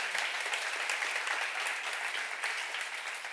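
Seminar worshippers in a Korean church clap together in a brief, full burst of applause that holds steady at a close, even level.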